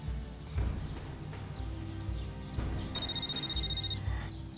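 A mobile phone rings in a TV drama scene, one brief bright electronic ringtone about a second long over low background noise.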